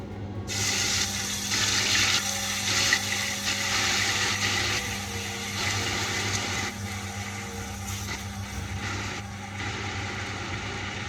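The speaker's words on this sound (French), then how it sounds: "je vois que l'huile est chauffée, les amis. Donc je vais mettre l'ail." Garlic sizzles in heated oil for a bean dish, a steady broadband hiss that stays fairly even throughout with slight swells.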